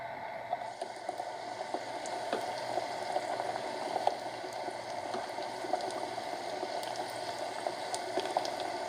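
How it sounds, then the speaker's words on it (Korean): Glass noodle mandu dumplings sizzle in a preheated deep fryer, giving a steady, moderately quiet bubbling hiss with tiny popping crackles throughout and no talk. "예열된 튀김기에 만두를 넣습니다"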